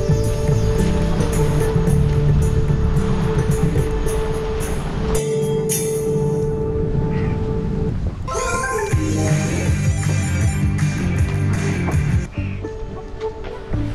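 Waves on the Matla river wash continuously and loudly close by, a steady broadband rush with a rumbling undertone, briefly dipping before swelling again.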